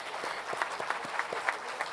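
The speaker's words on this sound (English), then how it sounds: "Let's give our celebrated chief guest a thumping round of applause." A room full of people at an MBA inaugural ceremony claps steadily, with many overlapping hand claps forming continuous applause throughout.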